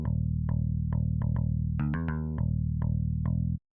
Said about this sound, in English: without any effects, the templated bass sounds like this.